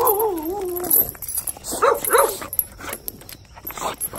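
A small pit bull puppy yips and barks in quick, high-pitched bursts, close by, with a whine at the start and some scuffling noise.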